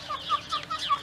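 Backyard chickens in a New Mexico desert garden cluck softly in a quick run of short calls, close by and fairly quiet.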